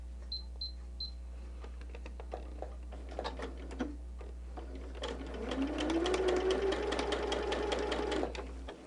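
A sewing machine stitches quilt block fabric, first with a few scattered ticks and clicks, then building into a steady stitching whir that rises in speed and then stops, all under a low constant hum.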